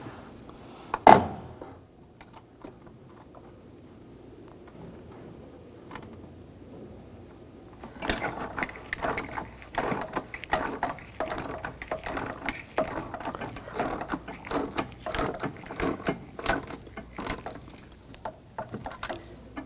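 Brake master cylinder nuts being tightened on a 2009-2013 BMW 328i xDrive 3.0L, a rapid series of close ratcheting clicks after a quieter stretch with one sharp knock near the start.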